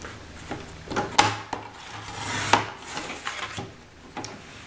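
A chipboard piece being trimmed at a crafting table, with irregular scraping, cutting strokes and light knocks, a couple of sharper snaps standing out, close and fairly quiet with no speech.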